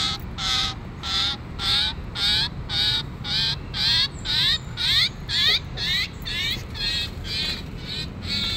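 A rescued bird calls over and over in loud, harsh, squawking cries, close by and in a steady rhythm of about two calls a second, above low background rumble.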